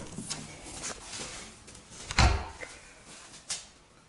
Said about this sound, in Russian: Да, дверь открывается только на 90 градусов.